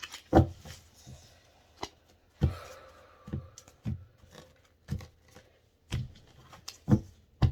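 Tarot cards being shuffled on a table, a series of sharp riffling snaps and soft slides repeating irregularly about every second, close and clear with no talk.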